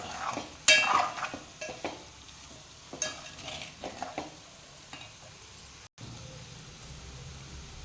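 Potato curry with salt is stirred in a pan, with quiet scraping and clinking of a spoon against metal over a soft low sizzle, a few sharper knocks standing out.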